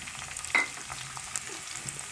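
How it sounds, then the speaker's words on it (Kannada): Chopped onions sizzle as they drop into hot oil for an egg curry, a brief burst of frying followed by a steady low crackle, close and alone with no talking. "ಈ ರೀತಿ ಎಣ್ಣೆ ಕಾಯ್ದ ನಂತರ ಇದಕ್ಕೆ ಸಣ್ಣದಾಗಿ ಹೆಚ್ಚಿಟ್ಟುಕೊಂಡಿರುವಂಥ ಈರುಳ್ಳಿಯನ್ನು ಹಾಕಿ."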